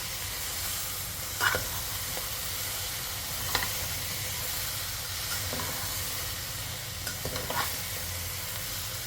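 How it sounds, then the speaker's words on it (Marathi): Chopped tomatoes go into sizzling masala rice, a steady soft frying hiss with a few light clinks and stirs of a spoon against the pan. "हे कापलेले टोमॅटो टाकते"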